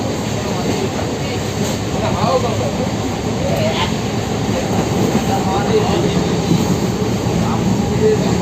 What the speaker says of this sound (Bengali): এখন আমাদের ট্রেন ছেড়ে দিয়েছে